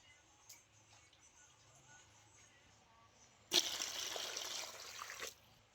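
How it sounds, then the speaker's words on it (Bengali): Pumpkin leaves being rinsed in water, with a sudden burst of splashing and trickling that runs for a couple of seconds after a quiet stretch of faint ticking. "সব কটা পাতা একদম বেছে পরিষ্কার করে রেডি করে নিয়েছি এবারে খুব ভালো করে ধুয়ে নেব"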